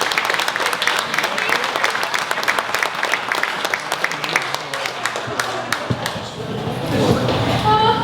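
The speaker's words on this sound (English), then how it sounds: "Round of applause, please." Sustained applause fills a room at a 50th high school class reunion dinner, dense clapping that holds steady for several seconds before thinning out, with voices murmuring underneath.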